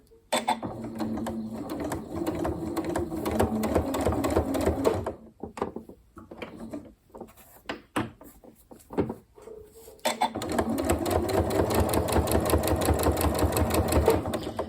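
A sewing machine runs steadily along the fabric edge of a ghost-shaped cushion, its rapid stitching rhythm broken by a few seconds of pauses and short bursts before resuming continuously, close and clear.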